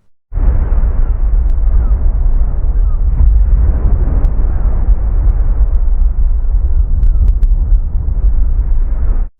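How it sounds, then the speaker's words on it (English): Ocean waves filtered to simulate how they would sound in Mars' thin atmosphere: a continuous, muffled low roar of surf that sustains steadily for about nine seconds, with no voices. "ocean waves as it would sound on Mars"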